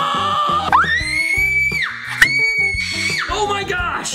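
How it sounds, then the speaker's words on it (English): A very loud, high-pitched scream bursts out during a Halloween-themed father-and-son tabletop fishing game, rising sharply and holding twice over steady tinkly game music. "That was the loudest scream I've ever heard in my life."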